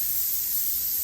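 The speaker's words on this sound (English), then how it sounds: "give that a little spray" Coconut oil cooking spray hisses out of its can over a stove in one continuous, close, steady burst of spray.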